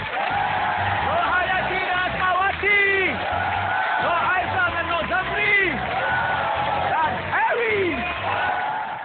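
A live television studio audience applauds and cheers, with whoops and crowd babble mixed under a host's amplified voice.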